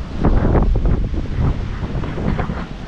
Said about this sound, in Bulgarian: малко облачно, малко ветровито